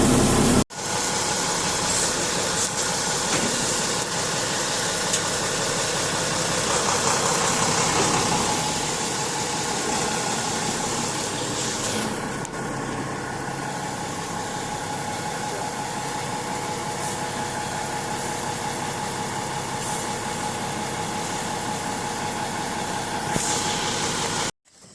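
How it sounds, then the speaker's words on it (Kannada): A pickup truck's engine runs steadily as it reverses during the Ayudha Pooja festival, a continuous mid-pitched motor hum close by with no talk, cutting off at the end. "ಅದಕ್ಕೆ ಗಾಡಿನ ಈಗ ಹಿಂದೆ ಹಾಕ್ತಾ ಇದ್ದೀನಿ"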